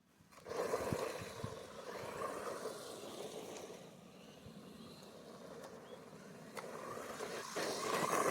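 MJX Hyper Go 1/14 scale RC basher car on a 2S battery racing at full throttle over gravel, a sustained whining motor roar with crunching tires that holds steady for several seconds, swelling slightly toward the end.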